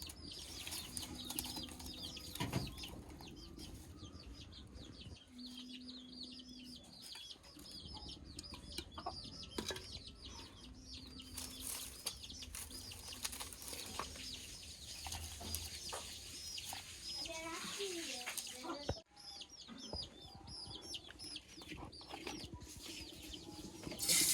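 Chickens cluck and call in a village yard, a steady chorus of short fowl sounds at moderate distance with occasional louder calls over continuous outdoor background.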